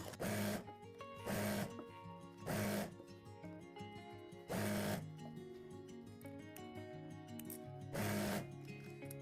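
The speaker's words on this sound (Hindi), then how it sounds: "अब आपने इसकी सेंटर में एक सिलाई लगा लेनी है।" A sewing machine runs a line of stitching along the centre of a gathered farshi shalwar, in several short loud bursts of rapid mechanical whirring, each lasting about half a second, with quieter pauses between them.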